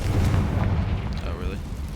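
Confringo fire spell explosion in the Hogwarts Legacy video game, a short booming burst with rumbling decay over about two seconds, with a voice speaking over it.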